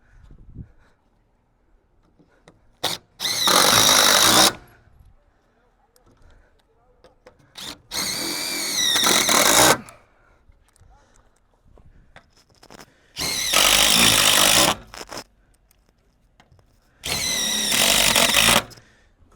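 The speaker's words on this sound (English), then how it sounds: "Finish putting those hinge screws in" A power drill drives hinge screws into a wooden gate in four long, loud whirring bursts of about two seconds each, separated by quiet pauses with faint handling noise.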